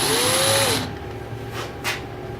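A battery-powered DC drill machine with reversible rotation whirs with a high whine for under a second, then spins down to a softer lingering hum with a few faint clicks nearby.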